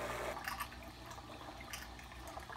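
Tap water runs through an Aqueon water changer hooked to a sink to refill an aquarium, a steady quiet rush of flowing and trickling water throughout.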